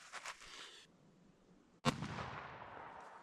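A single sharp, loud report from an ATI Turkey Fowl 20 gauge shotgun, bottom barrel, firing a Browning BXD number 6 pheasant load outdoors, with a long rolling echo afterward and faint earlier handling noise.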